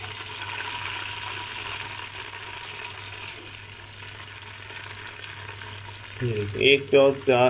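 Chopped onions, about a quarter kilo, frying in a pot over raised heat to brown for haleem, a steady close sizzle that runs throughout, with a few louder bursts and clatters near the end.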